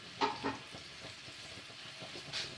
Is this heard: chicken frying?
yes